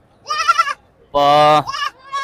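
Goats bleat at a rural goat market in Sakri, several harmonic cries in quick succession, one long loud bleat in the middle, close and clear, with no talk over them.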